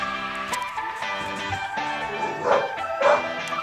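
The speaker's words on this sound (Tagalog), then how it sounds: "Ano naman yung aso, maingin na naman." A dog barks and yips a few times in short bursts, moderately close, under a steady background of tonal music or hum, with no talk.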